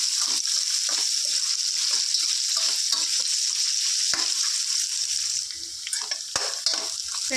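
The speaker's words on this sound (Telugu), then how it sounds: "ఒక టెన్ మిర్చి వేసుకున్నా ఫ్రెండ్స్ వీటిని చక్కగా ఫ్రై చేసుకోవాలి ఈ విధంగా" Green chillies and onions fry in a pan with a steady, loud hiss and sizzle, with occasional clinks of stirring; no one talks.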